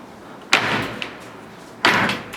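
A screen door at an apartment complex bangs shut twice, each close a sharp nearby slap followed by a brief rattling decay, with no talk.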